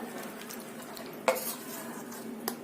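Hot raw mango pulp being stirred with saffron threads in a pot: a low, steady simmering hiss with a couple of sharp spoon clinks against the vessel, close and fairly quiet, no voices.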